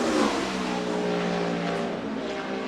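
A NASCAR race car at Dover's 2010 Cup qualifying roars loud and close, its engine note holding a steady, harmonic-rich howl as it accelerates, with no voices over it.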